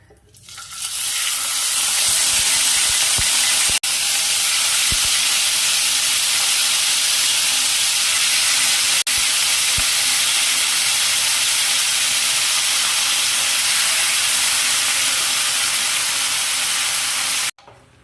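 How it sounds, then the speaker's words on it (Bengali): Yogurt-marinated chicken dropped into hot oil, bursting into a loud, dense, continuous sizzle and hiss that holds steady for many seconds with a few sharp crackles, close by, with no voices. "তেলটা হয়ে গেছে, এবার ম্যারিনেট করা চিকেনটা দিয়ে দিচ্ছি"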